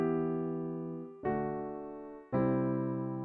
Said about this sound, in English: So I've loaded up a piano patch right here.